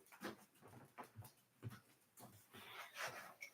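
A dog panting quickly and softly close by, rhythmic short breaths with a few faint whimpering sounds, quiet and alone.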